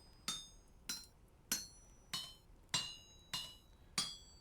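Hammer strikes on metal during smithing in the Vintage Story video game, seven evenly spaced ringing clanks, each sharp with a bright metallic ring that fades before the next blow.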